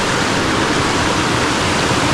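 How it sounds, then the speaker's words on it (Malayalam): A waterfall near a homestay in Idukki roars as a loud, steady, broadband rush of falling water, close and unbroken, with no voices. "അവിടെയാണ് നമ്മുടെ വെള്ളച്ചാട്ടം"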